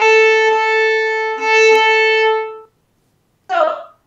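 Violin playing a short rhythm with uneven bow distribution, two bowed phrases of sustained bright tone under two and a half seconds, then silence before a voice briefly speaks.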